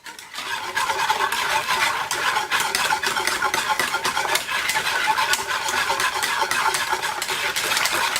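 Ingredients for a no-bake chocolate and strawberry cup dessert are stirred and mixed in a bowl, a loud, steady scraping and swishing that runs continuously and close up with no talk.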